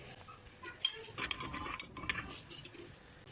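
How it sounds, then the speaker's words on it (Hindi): Chopped garlic lightly frying in a pan for a creamy chicken pasta sauce, a soft sizzle under close metal scraping and clinks from a spoon stirring, quiet and steady throughout. "हम जो लहसुन हमने काट के रखा था इसको हल्का सा फ्राई करेंगे।"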